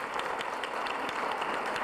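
Steady audience applause at a domestic violence community forum fills the short stretch with dense, continuous clapping at moderate volume.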